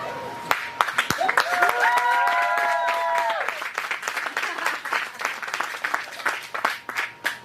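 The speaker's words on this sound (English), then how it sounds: "So let's get a round of applause." Guests at a wedding reception clap for the couple, a burst of applause that fades into scattered claps, with a whistle-like tone early on and people talking over it.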